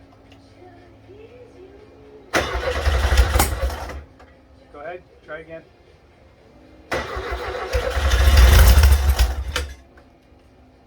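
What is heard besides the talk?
rebuilt 1600cc car engine starting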